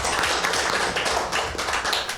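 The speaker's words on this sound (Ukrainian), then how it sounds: "Депутати привітали нового депутата оплесками." City council deputies at a session applauding a newly sworn-in deputy: a short burst of brisk, steady clapping from a group in a meeting hall, dense and even throughout.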